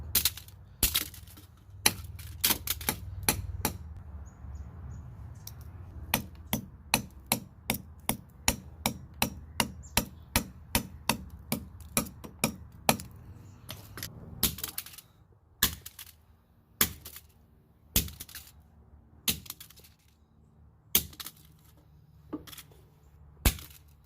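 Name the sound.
smashing a speaker with a hammer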